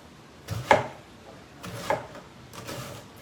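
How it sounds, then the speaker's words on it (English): A knife slicing an onion thinly on a cutting board for Japanese beef curry, giving three separate chopping knocks spaced about a second apart, close and fairly quiet, with no talk. "I want to cut this onion as thin as possible."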